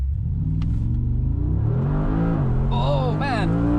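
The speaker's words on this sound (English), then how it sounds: "We're just going to do a little brake launch and see what we can do." Mercedes-AMG G63 accelerating hard from a brake launch on a wet road, a deep rumbling engine note climbing in pitch close by, with a voice speaking over the roar.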